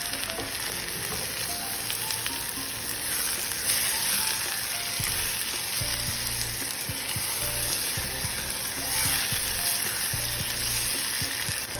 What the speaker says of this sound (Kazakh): Оның үстіне майдалап туралған 2-3 помидорды салып, жақсылап қуырамыз.